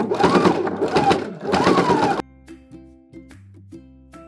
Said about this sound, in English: So make sure you stitch and then backstitch.